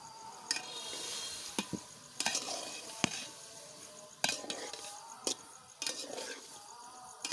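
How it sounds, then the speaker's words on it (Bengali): Rice boiling in a pot on a home kitchen stove is stirred with a spoon, giving a run of sharp metallic scrapes and clinks against the pot at irregular intervals over a low bubbling, sizzling background. "মাঝে মধ্যে একটু নাড়িয়ে নেব, নাহলে তলায় লেগে যাবে।"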